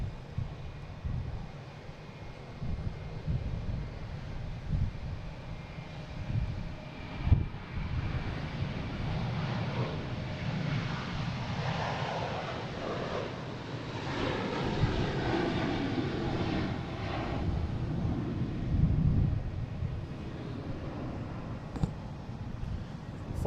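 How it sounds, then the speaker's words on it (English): A JetBlue airliner bound for San Diego at Boston Logan, its jet engines roaring steadily and fairly near, with swelling rumble and shifting whine, wind buffeting the microphone. "We have a JetBlue heading to San Diego"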